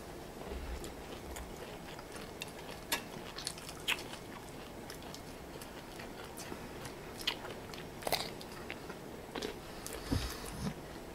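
Close, quiet chewing and crunching as someone eats a spicy Thai rice noodle salad with squid, with irregular bites over a soft background hiss.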